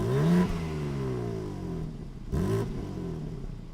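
A BMW Competition model's engine revs hard twice, each rise in pitch dropping back, with a smooth, muted tone up close.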